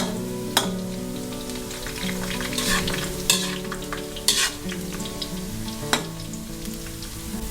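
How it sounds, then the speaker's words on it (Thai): Kale leaves deep frying in hot oil over medium heat, a steady dense sizzle with crackling bursts and a few sharp clinks of a utensil against the pan, close and continuous. "ทอดไปเรื่อยๆจนใบคะน้าเปลี่ยนสีนิดนึงนะคะ"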